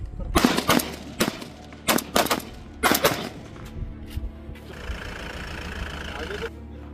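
Bursts of gunfire from BSF troops at the India–Pakistan border near Jaisalmer, several loud clustered shot volleys in quick succession, followed by a steady engine-like hum.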